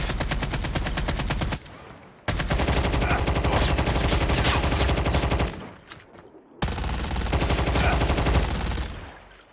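Sustained automatic gunfire in Call of Duty Mobile, loud rapid bursts rattling on in long stretches with two brief pauses between volleys.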